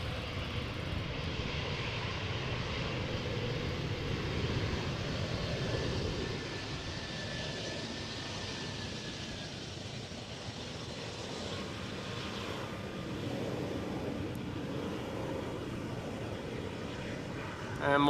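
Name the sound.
Embraer airliner touching down at Schiphol Airport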